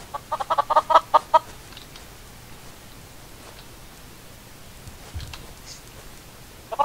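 Chickens in Minecraft cluck in a quick run of short clucks near the start, then a steady rain-like hiss with a faint cluck at the end, no talk.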